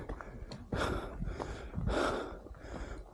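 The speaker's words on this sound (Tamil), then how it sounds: "நல்லாவே மூச்சு வாங்குது." Heavy, labored breathing of a hiker climbing a steep snowy winter mountain slope in Germany, several loud close gasping breaths in uneven rhythm with no talk.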